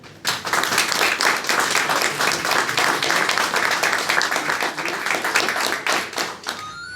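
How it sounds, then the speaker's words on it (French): An audience at a Jeune Chambre Économique handover evening in Manosque applauds a new president, close, loud and dense clapping that starts abruptly and fades out near the end. "qu'on l'applaudit bien fort"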